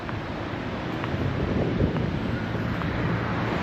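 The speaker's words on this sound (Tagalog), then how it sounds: "Yun yung waterfalls, talagang bukal yan." A waterfall fed by a mountain spring makes a steady, broad rush of falling water, mixed with wind buffeting the microphone, at a moderate level with no voices.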